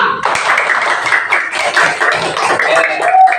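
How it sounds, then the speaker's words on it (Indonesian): A classroom of students applauds together, a dense, steady burst of clapping close by that lasts a few seconds with a little chatter mixed in. "Tepuk tangan buat kita semua."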